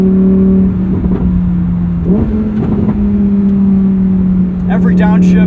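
A 2023 Lamborghini Huracan Tecnica's engine drones steadily from inside the cabin while driving, with a few throttle blips and rev changes rising and falling, and people talking over the engine note.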